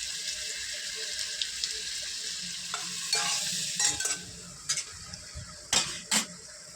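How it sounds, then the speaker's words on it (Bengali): Carrots frying in butter in a pan for veg fried rice give a steady low sizzle, broken by several sharp clinks and scrapes of stirring toward the end. "বাটার দিয়ে দিচ্ছি কিছু। গাজরগুলো ভেজে নেব।"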